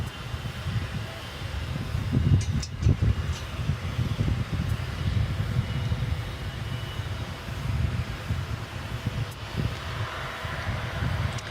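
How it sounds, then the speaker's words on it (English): A Turkish Airlines Boeing 787-9 bound for Istanbul as Flight 192 sits at DFW Airport at night, its engines a low, steady rumble mixed with wind noise, continuous and moderately loud from a distance. "we've got a Turkish Airlines plane, and you see it there. It's a 787-9."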